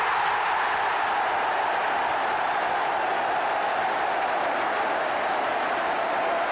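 A football stadium crowd at Spurs v Manchester United applauds a headed goal with a steady, dense roar of clapping and cheering that holds at an even, far-off level throughout.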